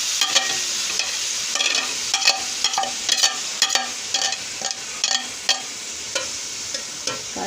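Grated carrots frying in hot ghee for gajar ka halwa, a steady close sizzle broken by regular scraping stirs of a spoon through the pan, with no voices.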